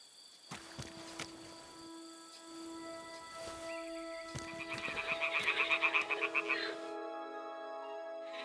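Toads croak in the game Kingdom Come Deliverance II, a steady chorus of ringing calls with a rapid, louder pulsing burst in the middle over faint ambient hum, fairly near and with no talking.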